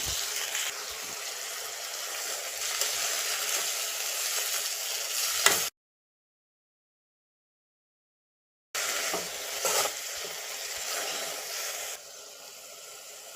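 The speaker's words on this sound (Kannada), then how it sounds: "ತೊಳೆದಿಟ್ಟಿರುವಂತಹ ನುಗ್ಗೆ ಹೂವನ್ನು ಈ ಒಗ್ಗರಣೆಗೆ ಹಾಕಿ ಸ್ವಲ್ಪ ಹೊತ್ತು ನುಗ್ಗೆ ಹೂವನ್ನು ಚೆನ್ನಾಗಿ ಬೇಯಿಸ್ಕೊಳ್ಬೇಕಾಗುತ್ತೆ" Washed drumstick flowers cook in a hot tempering, a close, steady hissing sizzle that stops for about three seconds of silence and then resumes, fading lower toward the end, with no voices.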